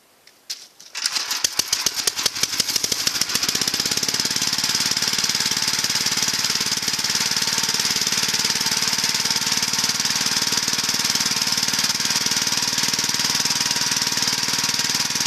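A 1951 Gravely Model L engine catches after a couple of sputters and settles into a loud, fast, knocking chug that runs steadily and close by, with no talking.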